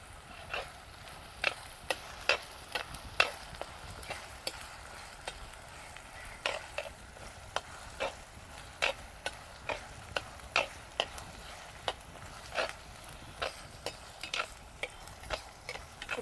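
Onions sautéing for Tamil fish gravy (meen kulambu), a steady soft sizzle under repeated sharp clicks and scrapes of a spoon stirring against the pan, close and moderately quiet throughout with no talking.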